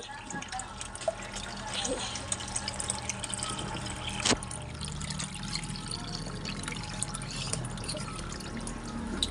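Dishes are washed under a running kitchen tap, with a steady stream of pouring, splashing water and occasional clinks, while voices talk faintly in the background.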